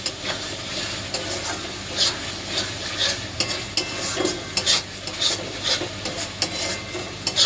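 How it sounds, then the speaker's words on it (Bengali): Spices for Kashmiri aloo dum are stirred in a hot pan, a steady sizzle broken by repeated spatula scrapes and knocks against the metal, close and with no one speaking. "এবার সব মশলাগুলো ভালো করে নেড়ে"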